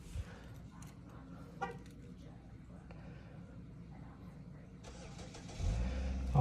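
A snow-covered truck engine cranks and tries to start, building to a loud, rumbling burst near the end over steady background noise, with people talking.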